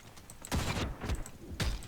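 A shotgun fires in the online shooter G.I.T.S.: First Assault, three sharp, booming blasts spaced roughly half a second apart over faint game ambience, each followed by a short decaying tail.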